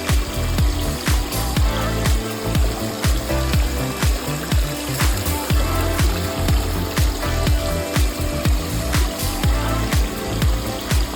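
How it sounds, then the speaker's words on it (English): Pump emptying water from a DIY 120-quart cooler livewell through a hose, a steady watery rush with rapid, regular splashing pulses and gurgles throughout, close and loud, no talk. "Now it's time to pump it out using the quick connect fitting, a hose, hook it up, turn it on."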